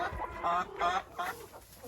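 Hens cluck in a series of short, close calls with a low background hum, and no talk is heard.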